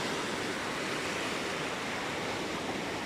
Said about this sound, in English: check out the waves coming in